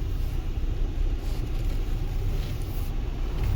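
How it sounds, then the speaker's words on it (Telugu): Steady low rumble of congested morning traffic, cars and commuter motorbikes crowding narrow roads, a continuous engine drone with no pauses. "ఒక నిమిషం అండి, కొంచెం ట్రాఫిక్."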